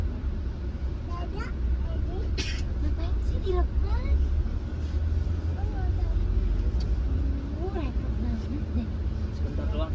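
A Perintis fleet night bus pulls out of Jepara terminal at six in the evening, its steady low engine rumble droning throughout beneath nearby talking voices.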